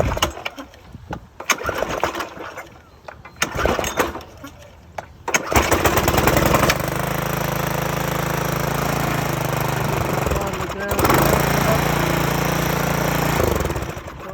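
Briggs and Stratton 2200 PSI pressure washer engine being pull-started with a few rough bursts, then catching and settling into a loud steady running drone that surges slightly near the end, with brief talking at the start.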